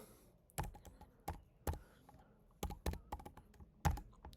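Someone types a PAN number on a computer keyboard: a series of crisp, irregular keystroke clicks close by, some spaced apart and a few in quick bunches, in a quiet room.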